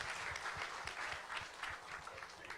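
Audience applause for a presenter at a startup venture forum, with fairly faint, moderately dense clapping and a few stronger individual claps standing out.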